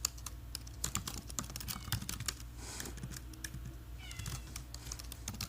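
Code being typed on a computer keyboard, brisk close clicking in uneven bursts over a low hum, while a cat meows faintly a couple of times in the background.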